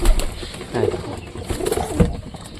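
Low, throaty pigeon coos repeating close by, with soft rustling and bits of background voices.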